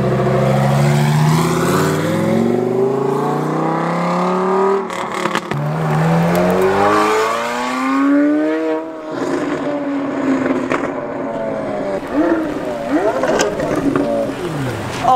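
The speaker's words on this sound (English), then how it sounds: "Oh my goodness, that Huracan sounds so good." A Lamborghini Huracan with a VF supercharger making 800 horsepower revs up and down with rising and falling pitch sweeps, loud and close, with brief crackles and pops between pulls.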